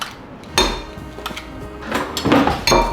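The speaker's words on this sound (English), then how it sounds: "Eggs. Crack however you want in a bowl." Three eggs cracked one by one against a bowl, each a sharp close tap, the first near the start and two more in quick succession toward the end, with light rustling between and no speech.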